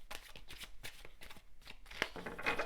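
Tarot cards being shuffled by hand, a steady run of soft papery riffles and flutters at close range, with no talk over it.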